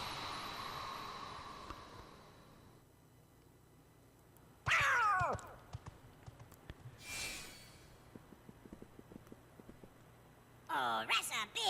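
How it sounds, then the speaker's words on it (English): A cat meows in bursts during a boss fight in the Kingdom Hearts Birth By Sleep video game, with loud rising yowls separated by quieter game sounds and scattered thumps. "What has my life become where I'm fighting a cat right now?"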